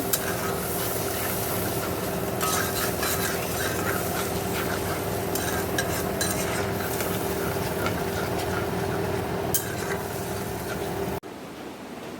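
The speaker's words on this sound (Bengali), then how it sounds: "মশলাটা ভালো করে কষে নেব।" Meat spice masala being stirred and fried in a pan, with a steady close sizzle and scraping of a spatula that runs continuously before cutting off abruptly near the end.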